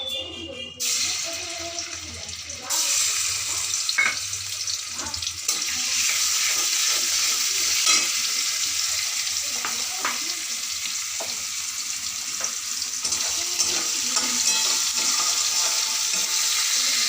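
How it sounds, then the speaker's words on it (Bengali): Prawns fry in a little oil in a wok, a loud, continuous crackling sizzle running throughout, broken by occasional scrapes and taps of stirring, with no talk over it. "চিংড়ি মাছটা আমার ভাজা হয়ে গেলে এবার আমি একে একে মশলাগুলো দেব।"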